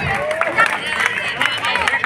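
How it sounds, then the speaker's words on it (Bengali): Crowd noise and clapping from an audience at a Saraswati Puja prize-giving in honour of Sudip Lohar, a steady babble of many people with loud bursts throughout. "সুদীপ লোহার জন্য জোরে হাততালি।"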